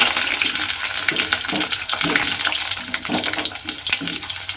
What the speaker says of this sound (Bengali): এখানে আমি তেলের মধ্যে আলুগুলো দিয়ে দিলাম।